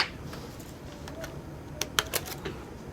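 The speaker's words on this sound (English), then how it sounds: "Keyboard's coming out now." A laptop keyboard is pried out of a Sony Vaio during a repair, giving light plastic clicks and taps. A small cluster of sharper snaps follows near the end, close and fairly quiet.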